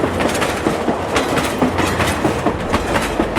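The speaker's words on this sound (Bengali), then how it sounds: "এমন সময় কিছু দূরেই রেল লাইন দিয়ে ছুটে আসে ট্রেন।" A train rushes along a railway line with continuous rumbling and rhythmic clickety-clack of wheels over rail joints, loud and close, with no voices.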